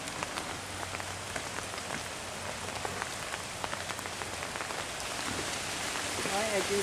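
Rain falls outdoors at night, a steady hiss of drops with scattered close patters, while a voice speaks briefly near the end.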